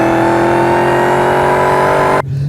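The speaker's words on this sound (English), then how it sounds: "listen to the exhaust. Listen to the whine from that." A 2015 Dodge Challenger SRT Hellcat roars under hard throttle, loud and close, its exhaust blaring with a high supercharger whine layered on top before the revs cut off sharply near the end.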